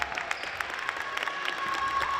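A cheer squad cheers at a middle school boys basketball championship game during a timeout, a steady wash of claps and crowd noise rising slightly toward the end, with no clear voices above it.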